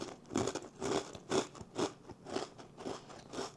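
Repeated close crunching bites and chewing of a hard protein pretzel, about seven crisp bursts in a steady rhythm, quiet and dry, with no talking.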